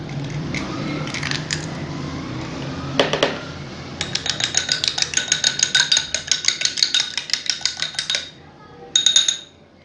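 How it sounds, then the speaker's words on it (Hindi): An egg is cracked into a small bowl with one sharp knock, then beaten for chapli kabab mix, giving a long run of quick, rhythmic clinks of a utensil against the bowl, close and crisp. "यहाँ पे मैं एक कटोरी में इसे तोड़ लूँगी और इसे अच्छे से हम फेंट लेंगे"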